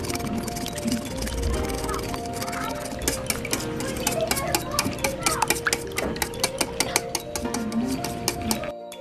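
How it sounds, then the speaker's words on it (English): An egg being mixed for pancake batter, a fork or whisk tapping and scraping against a bowl in a quick irregular rhythm, close and steady, growing more rapid toward the end. "Now we're going to mix the egg so that we can divide it into 12 parts."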